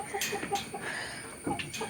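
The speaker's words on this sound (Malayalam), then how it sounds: "ഇത് 20 കോഴികളെയാണ് ഞാൻ വാങ്ങിച്ചു വിട്ടിരിക്കുന്നത്." Backyard hens, one of a flock of twenty laying birds, cluck in short repeated bursts close by, soft but clear against a quiet yard.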